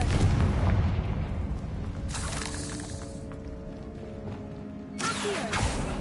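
A Confringo spell explosion in Hogwarts Legacy, a loud, dense blast with rumbling low end and crackling debris, followed by a second burst near the end and a faint tonal hum between them, no talking.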